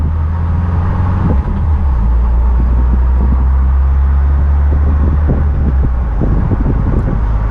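A 2024 Ford Bronco with a manual transmission accelerating on a road, heard from inside as a loud, low engine drone mixed with heavy wind buffeting, with a few brief thumps and no talking.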